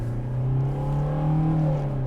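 A '90s Mercedes with a 71-horsepower 2-liter four-cylinder diesel pulls at full throttle, making a steady, droning engine note that rises slowly in pitch, close and fairly loud inside the car.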